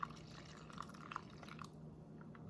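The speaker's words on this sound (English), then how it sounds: "we'll take our banana pudding bag now and pour our hot salt water mix into it" Hot salt water mix poured into a plastic bag holding mashed banana during a DNA extraction demo, a quiet, steady liquid trickle with faint drips lasting a couple of seconds, no voices.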